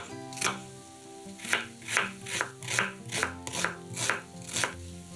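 A knife dices an onion on a cutting board in a steady run of about ten crisp, evenly spaced chops, close and clear over soft background music.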